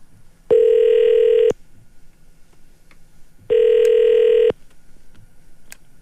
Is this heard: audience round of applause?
no